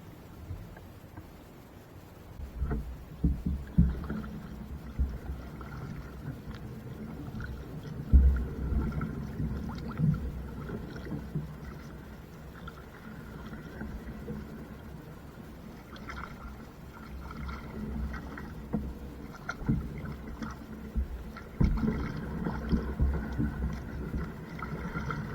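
Paddle strokes from a canoe or kayak on open water, with soft splashes and dripping recurring at an irregular rhythm close by, over light wind rumble on the microphone.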